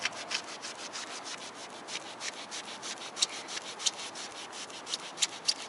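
Someone scrubs leftover glue off an alloy wheel with vinegar, making a quiet, close, continuous rubbing and scraping sound with small sharp clicks recurring throughout and no talk.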